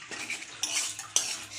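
A utensil stirs taro leaf mash in a pan, scraping and clinking against the metal in quick uneven strokes, close and clear with no voices.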